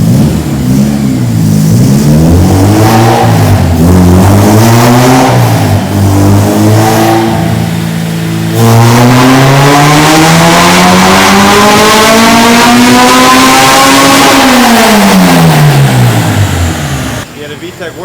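A Honda Integra with a K20Z3 engine revs hard on a dyno, rising through the gears in long sweeping pulls with a VTEC crossover, loud and close, while people talk over it.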